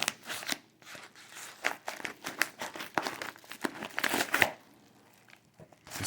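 A soccer trading card pack wrapper is torn open up close, giving a run of loud crinkling, crackling foil rips in uneven bursts that fade into a quieter pause and a final rustle.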